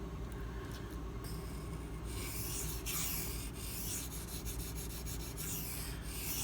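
A Case Southern Grind CG01 knife is being sharpened, with continuous close rasping and rubbing as the blade is drawn across the stone, faint and steady under a low background hum.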